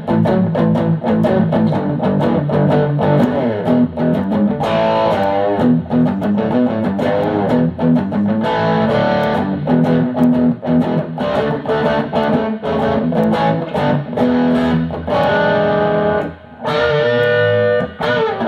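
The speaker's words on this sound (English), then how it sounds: "Kind of a nice bluesy crunch" Electric guitar through a Boss BC-2 Combo Drive pedal plays a bluesy phrase with a gritty, crunchy tone, notes and chords ringing loud and close without any voices.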